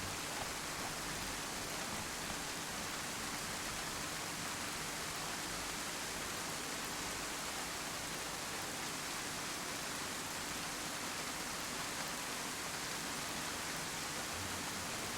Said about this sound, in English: Pretty cool, you can even see the raindrops falling in the gutter.